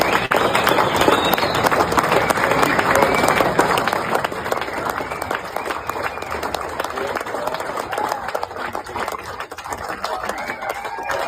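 Applause and clapping from a crowd at a political gathering, steady and fairly loud throughout, with voices murmuring underneath.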